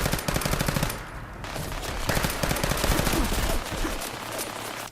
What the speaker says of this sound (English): I have a minigun too, and it's a lot better than yours.